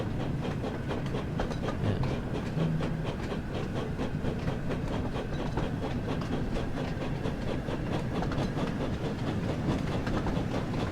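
A Thomas and Friends video-game train pulls out of the Vickerstown sidings in snow, rhythmic wheel clatter over rail joints with a steady rumble and hiss, continuous and fairly close.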